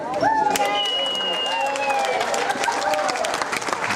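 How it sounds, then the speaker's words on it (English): An audience claps steadily after speeches at a celebration, with dense applause running throughout, while a voice speaks over it. "how about a nice round of applause for our speakers?"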